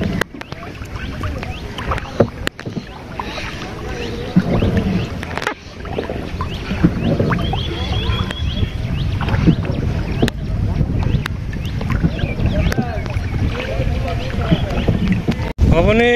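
A village rowboat moves across a pond, with steady water swishes and creaks under ongoing nearby conversation, a few sharp knocks scattered throughout.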